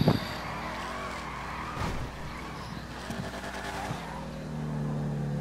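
A car engine driving in Grand Theft Auto V, a steady motor drone with shifting pitch and a few revs, moderately loud throughout.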